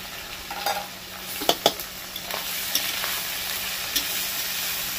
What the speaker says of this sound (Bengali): এই টমেটো দেওয়ার সাথে সাথে নারকেলটাও ভাজা হয়ে যাচ্ছে